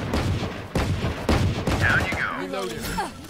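Video game shootout with rapid bursts of gunfire and sharp repeated shots, loud and close, followed by whooshing and whistling effects near the end, while a player talks over it.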